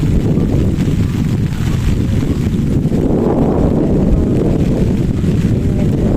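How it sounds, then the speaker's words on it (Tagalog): Loud, blustery wind roars and buffets the microphone, with a dense rushing wash that could be heavy rain, continuous and close with no talking. "nabutan tayo na ulan, napakalakas ng hangin mga loves"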